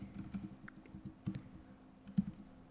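Typing on a computer keyboard: soft, uneven clicks and taps in short bursts, fairly faint and close, with no talking.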